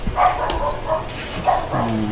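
A dog barks a few times in quick bursts, moderately close, over a steady background hum.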